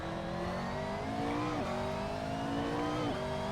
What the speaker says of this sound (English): I don't know how accurate it is in terms of the real sound of the in-car of a McLaren